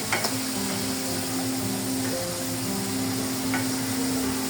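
Steady sizzling of potatoes frying in a pan, continuous and close, with a faint occasional clink and no voices.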